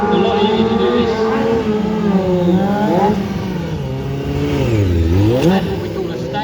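A motorbike engine revs and wails during a staggered wheelie at a stunt show, with pitch rising and dipping as the throttle swings, loud and continuous under a crowd and an announcer.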